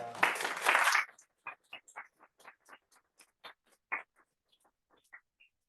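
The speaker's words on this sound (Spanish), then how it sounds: "Aplaudimos entonces a Matías" A small audience at a university thesis exam breaks into a short burst of applause that quickly thins into a few scattered, separate claps in an otherwise quiet room.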